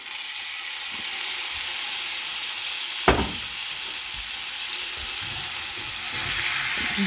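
Scallops sear in garlic brandy butter in a hot pan with a loud, steady close-up sizzle. A brief clatter of a spoon or the pan comes partway through, and no one speaks.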